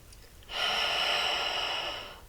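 A single deep inhaled breath starts abruptly after a brief quiet moment, a close, airy rush of air drawn in through the nose that holds steady for well over a second before easing off.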